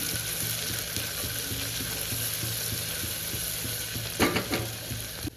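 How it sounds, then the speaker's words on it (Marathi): Cumin and mustard seeds sizzle in hot oil over a low gas flame for a Maharashtrian khichdi, a steady close crackle, with a few louder scraping stirs of the spoon near the end. "आता इथे आपण टाकणार आहोत थोडंसं जिरं आणि मोहरी. परत थोडंसं आपण त्याला हलवून घेऊ."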